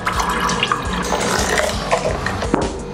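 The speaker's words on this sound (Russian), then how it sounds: "можно добавить воды" Water being poured into pancake batter in a kitchen, a continuous splashing, trickling flow with small irregular splats, close and steady throughout.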